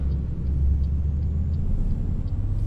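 An old Scania 1 series truck drives in Euro Truck Simulator 2, a low, steady engine rumble droning quietly with faint ticking above it.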